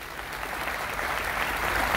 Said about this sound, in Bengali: জোরে করতালি দেই